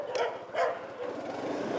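Dogs out on a walk, giving two sharp barks followed by softer whining yips, close by with no talking.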